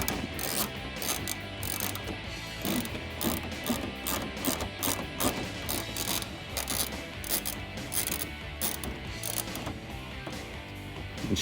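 A ratchet wrench clicks rapidly and steadily as a 10mm headlight bolt is loosened on a Toyota Tacoma, close and continuous with no talk.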